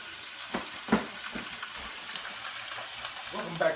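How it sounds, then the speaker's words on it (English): Beef, rice and refried beans burrito filling is stirred and scraped in a hot pan, with steady sizzling under several sharp clinks and scrapes of the spoon. "And when you get your rice in there, you want to mix it up real good, like this."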